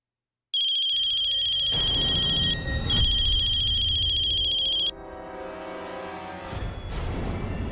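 A phone ringtone with a bright, repeating electronic tone, loud and close, breaking off partway before a quieter rumbling background continues.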